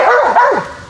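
A dog barks sharply during a guarding exercise, a quick pair of loud, close barks sliding in pitch and then fading, with no talking over it.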